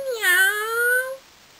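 A single drawn-out cat meow, clear and close, rising briefly and then sliding gently down over about a second before falling silent.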